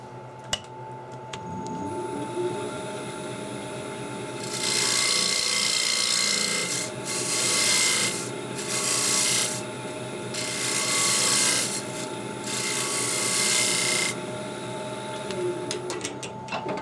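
A parting tool cuts into a wooden pentagonal dish spinning on a lathe, giving loud rasping scrapes in several bursts of a second or two each over a steady motor hum.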